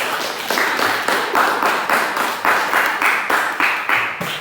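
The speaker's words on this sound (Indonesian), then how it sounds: "Kita beri aplaus dulu untuk kita semua." A classroom of students applauds together, a fairly close, even patter of clapping in a steady rhythmic pulse lasting a few seconds, with no speech over it.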